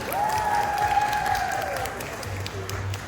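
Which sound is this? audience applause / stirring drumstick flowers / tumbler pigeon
audience applause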